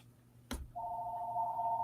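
A telephone rings in a comic book shop, starting with a sharp click and then a sustained electronic ring tone that holds steady to the end, with no talking over it.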